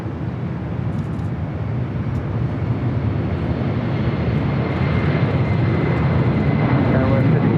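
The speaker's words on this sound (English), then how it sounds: "747-400 freighter now rolling." A Boeing 747-400 freighter rolling for takeoff at LAX, a loud broad engine roar that builds steadily while a voice talks over it.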